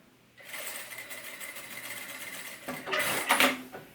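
Sewing machine running a holding seam along the bottom of a fabric toothbrush holder, a steady close whir of stitching with a louder, busier burst near the end.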